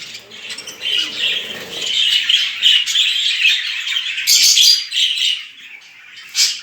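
Budgerigars bred at home chirp and chatter continuously in a busy flock, with bursts of wing flapping, close and fairly loud throughout.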